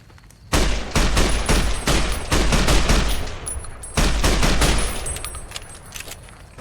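Rapid bursts of armor-piercing gunfire in Fallout: New Vegas, loud and close, with dense repeated shots and a brief pause midway before firing resumes; no talking.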